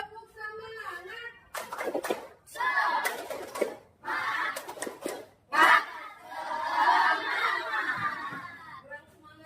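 Schoolchildren in a classroom doing a 'tepuk semangat' spirit clap and chant: bursts of group clapping mixed with loud shouted voices, close and lively, with a teacher's voice in between.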